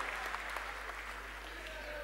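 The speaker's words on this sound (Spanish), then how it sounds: "Un fuerte aplauso realmente para ellos." Audience at a 2008 general assembly of the FAM in Argentina applauds steadily, a dense, even clatter of many hands that holds at a constant level for about two seconds, heard at a moderate distance.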